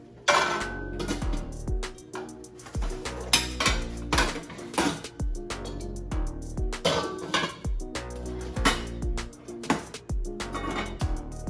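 Metal pots, pans and lids clatter and clink in a kitchen, a busy run of sharp knocks and rattles at close range, with no talking.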